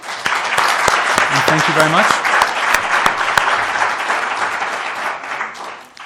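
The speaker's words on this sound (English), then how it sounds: "So please, a round of applause." An audience at a donor session of a WASH and nutrition conference in Bonn gives a round of applause, steady and sustained, while a speaker offers thanks over it before the clapping fades at the end.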